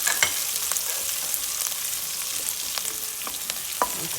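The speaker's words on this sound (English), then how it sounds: "So I'm going to add green chilies there." Green chilies sizzle in hot oil with browned garlic, a steady crackling fry with occasional stirring clicks, loud and close.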